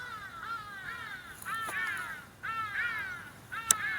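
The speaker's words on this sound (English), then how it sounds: "The hedidas and the birds are here to play today" Hadeda ibises and other birds call outdoors, harsh raucous cries repeating in bursts every second or so, moderately distant, with a sharp click near the end and no speech.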